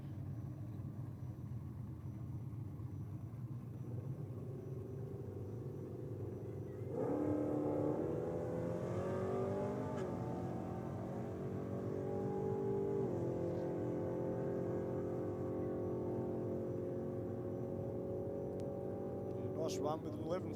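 An early model Holden Commodore and a VR or VS Club Sport run at a drag strip, their engines rumbling at a distance before a louder surge of acceleration, with an announcer talking throughout.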